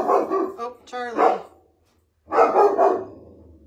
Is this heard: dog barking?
yes